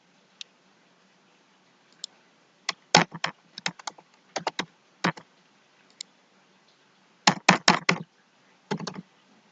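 Someone types on a computer keyboard, entering data into a spreadsheet: scattered single key clicks, then two quick bursts of close, crisp keystrokes with pauses between them, no talking.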